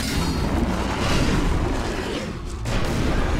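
A plasma weapon in the game ELEX fires in loud, booming bursts over a rough continuous roar, with a brief dip before the blasts resume.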